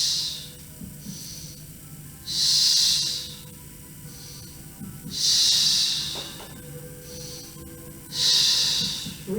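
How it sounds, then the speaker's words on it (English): Steady exercise breathing during a resistance-band mat workout: three long, loud, hissing breaths spaced about three seconds apart, with softer breaths between them, close to the ear and with no talking. "Inhale, exhale."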